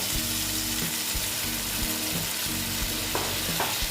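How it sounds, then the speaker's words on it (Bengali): Fish in a frying pan hiss loudly and steadily as water goes in, with repeated clinks and scrapes of utensils against the pan, close and without voices. "মাছটা ওই বাটি ধুয়ে আমি জলটা দিয়ে দিচ্ছি দেখো"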